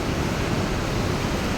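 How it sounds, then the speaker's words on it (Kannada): Steady rushing water flows through a dam channel at Marikanive, a continuous broadband roar with no breaks and no talk over it. "ನೀರಿನ ಸೌಂಡ್ ಕೇಳಿಸ್ತಾ ಇದೆ ನಿಮಗೆ ನೋಡಿ"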